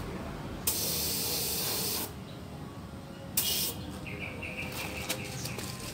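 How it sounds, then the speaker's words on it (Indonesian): A spray gun hisses in two bursts, one long and one shorter after a pause, close and loud against quiet background, spraying epoxy primer on a Toyota Kijang Innova's filled body panel. "kita semprot perlahan dan pastikan semprotan ini tidak melebar kemana-mana"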